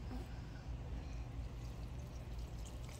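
Water poured onto a houseplant gives a continuous close splashing trickle that runs steadily throughout, with a low hum underneath.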